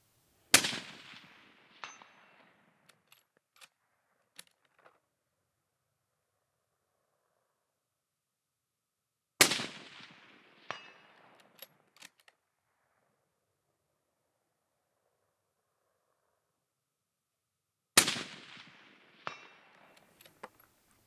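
Rifle shots from a Savage rifle fired at small steel rock chuck targets 335 yards away on a ridgeline: three sharp, loud cracks about nine seconds apart, each followed by fading echoes and faint distant metallic pings.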